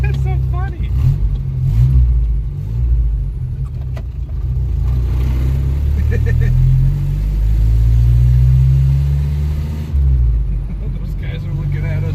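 Rough-running car engine revs and accelerates with a loud, close, low rumble that rises and falls, while people talk over it.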